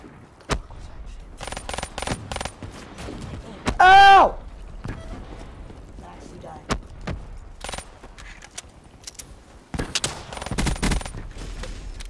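Gunfire from the video game Call of Duty: Black Ops III comes in sharp bursts and single cracks, mixed with a short metallic jingle, while players talk over the action.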